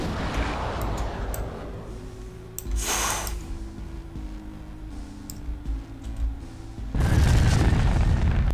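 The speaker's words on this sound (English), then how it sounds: "Yes, launch the missile." Missile launch in Garry's Mod, deep booming rumbles and scattered sharp clicks, with a bright whoosh midway and a heavy explosive roar near the end, loud and close.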